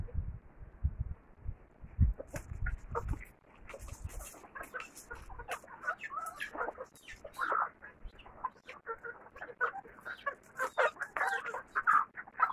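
Hens clucking and squawking nearby in irregular bursts, sometimes several birds at once, with short pauses between calls and a few louder cries toward the end.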